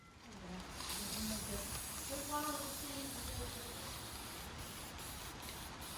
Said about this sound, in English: I'll be squirting in the foam from the other side in this direction